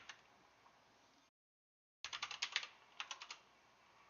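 Quiet keystrokes on a computer keyboard tap out in a few uneven runs, with a brief stretch of silence before a quicker flurry of clicks near the end.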